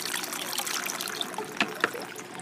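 Water from an aquarium sump filtration system returns and trickles through the overflow, a steady close gurgling flow with a couple of brief splashy drips near the end.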